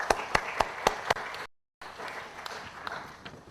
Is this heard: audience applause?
yes